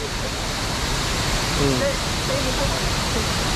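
Vera Falls pours in a continuous broadband rush of water that stays even throughout, with faint voices briefly surfacing beneath the roar.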